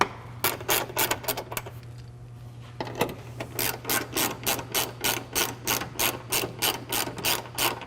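A ratchet tightens 10 millimeter bolts on a lower bumper during an LED light bar install, with rapid clicking bursts, a short pause, then a long steady run of even clicks, close up over a low hum.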